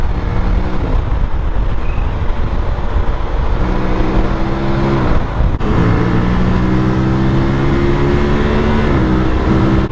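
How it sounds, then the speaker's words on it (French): Steady Aprilia Tuareg 660 motorcycle engine drone with rising revs broken by quick, clipped quickshifter gear changes, a short crackle between each shift and the next pull. "le bruit du shifter derrière"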